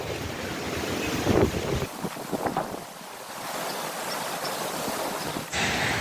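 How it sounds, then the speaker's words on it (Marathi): Strong wind roars and buffets the microphone in continuous gusts, with loud blustery rumble throughout and no voices. "इतकं धूळ उठलेली आहे खूप वार आहे आज"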